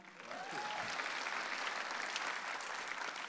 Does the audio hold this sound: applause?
yes